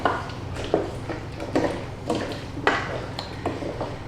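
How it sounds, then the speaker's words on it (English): Sausage casserole with potatoes and carrots stirred in a slow cooker, a spoon knocking and scraping against the pot in irregular clinks and thuds, close and fairly quiet. "Give it a good mix around."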